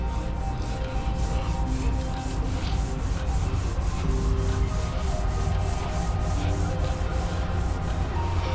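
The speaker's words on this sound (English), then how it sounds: "Buffing pad." A buffing pad polishes an aluminum tank, making a continuous loud abrasive rubbing and whirring that holds steady with a fast pulsing texture throughout.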